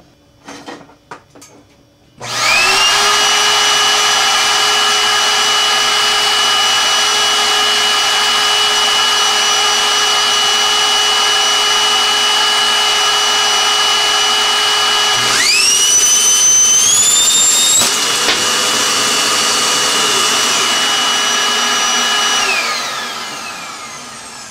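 A PC power supply fan, its casing lined with old floppy disks, is overspeeded until it breaks apart. Its loud, steady high-pitched whine holds for a long stretch, jumps sharply in pitch, then winds down at the end.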